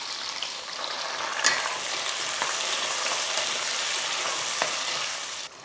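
Tomatoes fry with sautéed onions and curry leaves in a pan for a one-pot lunch, a continuous close sizzle with a few sharp clicks of stirring.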